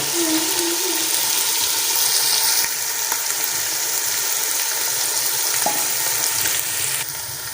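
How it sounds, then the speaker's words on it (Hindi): Mixed vegetables of peas, carrot, cauliflower and potato sizzle loudly in a pan, a dense steady frying hiss with occasional stirring clatters, close up with no voices. "थोड़ी देर इनको भूनेंगे, इसकी अच्छी तरह भुनाई करेंगे।"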